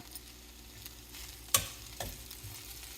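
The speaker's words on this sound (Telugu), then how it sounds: "ఒకటి టమాటా తరిగి పెట్టుకున్న టమాటా వేసేలా కొత్తిమీర వేసేసి కొంచెంసేపు వేగాలి" Chopped tomato and coriander fry quietly in a pan, a soft steady sizzle broken by a couple of sharp clinks of a spoon against the pan, with no talking.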